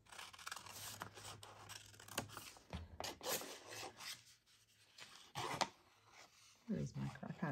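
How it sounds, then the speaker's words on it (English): Scissors cutting a small paper rectangle while making an envelope by hand, giving close, intermittent snips and scraping rubs, with a person talking in between. "first we cut out our little rectangle here"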